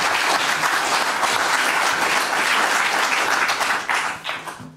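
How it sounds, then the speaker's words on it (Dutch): A literary audience in Limburg gives a novelist a warm round of applause, steady, full clapping close and loud throughout, fading away in the last second. "Graag een warm applaus voor Sascha."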